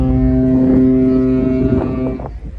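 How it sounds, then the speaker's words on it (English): A cruise ship's foghorn sounds in Juneau, Alaska, a loud, deep sustained blast that holds for about two seconds then cuts off, with wind buffeting the microphone. "foghorn."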